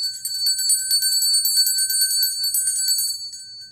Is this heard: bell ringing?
yes